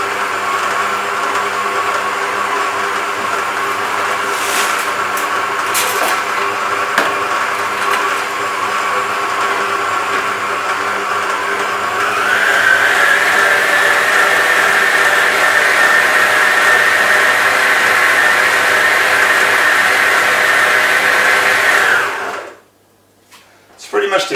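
A Kenwood stand mixer turns its K-beater through shortbread dough in a bowl, a loud steady motor whir that rises slightly in pitch partway through, then cuts out near the end, with talking over it.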